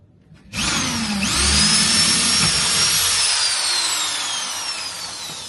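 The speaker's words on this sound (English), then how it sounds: "I'm going to drill a couple of holes to put these bolts in." A power drill whirs loudly and steadily up close, drilling holes for bolts, its high whine sliding in pitch as it bores through material for several seconds.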